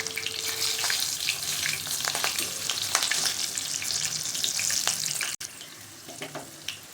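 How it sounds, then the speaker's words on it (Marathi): Slit green chillies fry in hot oil, giving a dense, continuous sizzle and crackle close by, with faint stirring and a brief watery break near the end. "तर आता ह्या मिरच्या तळून झालेल्या आहेत"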